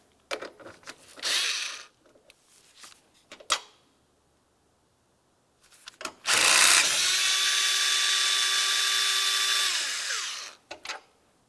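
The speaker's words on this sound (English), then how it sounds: "Below it, you're going to find that you have two 8mm headed bolts. Remove the pair." A power tool spins out two 8mm bolts on a 2009-2019 Ford Flex during thermostat housing replacement, with a few sharp clicks and handling knocks before one long, steady whirring run that winds down at the end.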